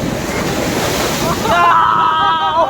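Sea waves break and surge at Digha beach amid wind noise, a loud continuous rush swelling toward the end, with people talking nearby.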